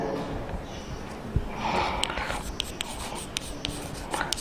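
Pen writing out a banking interest calculation by hand, a close scratchy scraping with small irregular taps, with a breathy sound partly over it.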